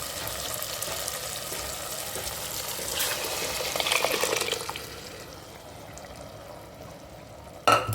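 A blended lentil mixture poured into a hot pot, a continuous wet sizzling and frying hiss that swells near the middle, then settles to a quieter simmer, ending with a sharp clank.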